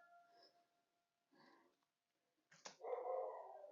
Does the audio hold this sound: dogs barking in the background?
yes